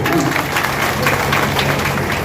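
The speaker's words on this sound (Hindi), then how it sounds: "इनके लिए एक बार सारे के सारे जरा ताली जरूर पीटो" Dense, sustained applause from a large crowd at a political rally, steady clapping filling the whole moment with faint voices mixed in.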